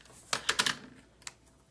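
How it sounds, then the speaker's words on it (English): A tape runner clicks and taps against card stock during card making, a quick cluster of four crisp, close ticks followed by one more isolated tap, with quiet room tone in between. "And we'll tape runner that"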